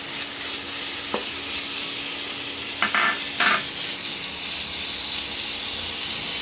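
Chicken mince frying in a pan with spices, a steady sizzle and hiss running throughout with a few brief stirring scrapes and clinks near the middle.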